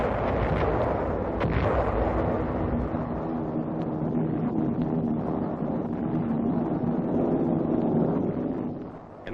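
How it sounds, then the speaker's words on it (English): Heavy naval bombardment from destroyers and cruisers in archival wartime film, a dense continuous rumble of booming gunfire and blasts with wind-like roar, loud throughout and easing at the very end. "the destroyers and cruisers move in to join the air attack with a heavy bombardment"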